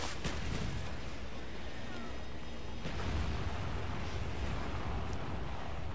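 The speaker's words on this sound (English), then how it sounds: "You'll hear the missiles that are going off." Missiles going off in the Silo map of Black Ops during team deathmatch gameplay, a dense, continuous rumble of distant blasts and gunfire with a sharper burst near the middle and faint talk underneath.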